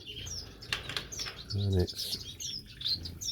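Gouldian finches in an aviary give short, high chirps scattered through the clip against a soft background, and a voice speaks briefly near the end.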